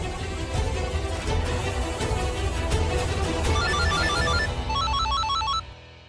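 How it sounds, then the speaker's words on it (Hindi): A phone ringtone plays loudly in a repeating electronic melody, ringing steadily for about five seconds before cutting off, with no talk over it. "फोन आ रहा है।"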